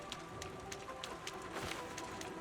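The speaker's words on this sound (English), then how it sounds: "Ooh, raining." Rain patters steadily in a video game level, a soft, even wash of drops with faint ambient tones underneath and no talking.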